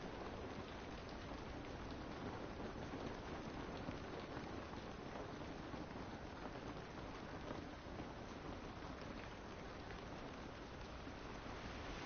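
Steady rain pours down outdoors in a continuous, dense hiss that fills the whole stretch without a break, with no voices over it.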